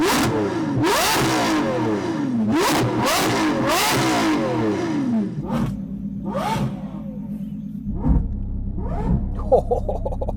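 A 6.5-litre V12 Lamborghini engine revs hard several times, rising and falling in loud bursts, then settles into a deep idle with a few sharp blips near the end.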